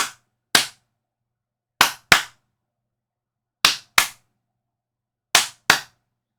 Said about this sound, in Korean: 2번을 이제 박수를 치는 거죠.